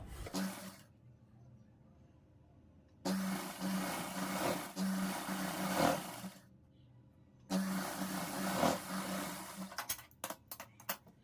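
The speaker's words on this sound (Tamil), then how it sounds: "இப்போ தையல் வந்து போட்டுக்கலாம்" A sewing machine stitches a saree blouse sleeve in two bursts of steady, close whirring, separated by quiet pauses, and ends with a few short clicks.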